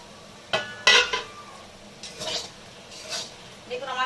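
A metal pot lid is lifted off a pan of frying dhemni saag on a low gas flame in a village kitchen, giving two sharp ringing clinks followed by softer scrapes and clatters nearby.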